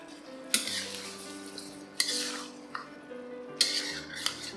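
Chicken, ginger and green onion stir fry sauce reducing on high heat in an uncovered pan gives a steady close sizzle, broken by a few louder scraping stir strokes and utensil clinks, with no talking.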